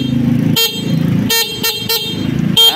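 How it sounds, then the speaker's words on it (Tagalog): A shrill horn on a 2024 Motoposh Evo 150 V3 motorcycle honks in several short, loud bursts over a steady idling engine rumble, close by. "Ayan, malakas din naman ang busina. Medyo matinis siya."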